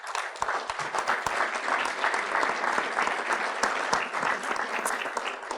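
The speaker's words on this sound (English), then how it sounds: "So first thing I'd like to do is start with a round of applause." Conference attendees give a steady round of applause, many hands clapping evenly and moderately loud throughout, without talk.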